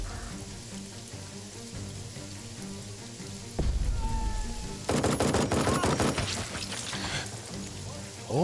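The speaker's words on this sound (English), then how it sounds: "the machine gun works automatically" Machine gun firing automatically in Jagged Alliance 3, long loud crackling bursts of rapid gunfire from midway on, preceded by a sudden thump and quieter game ambience.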